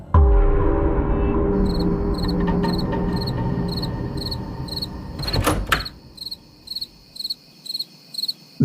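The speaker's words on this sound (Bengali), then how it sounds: "ঝিঝি পোকার ডাক" Rhythmic bursts of cricket chirping, evenly spaced and steady, after a door creaks and clunks shut against a low hum.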